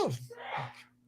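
A person sneezes once during a casual conversation about comic-book films: a short vocal catch, then a breathy burst, close to the microphone.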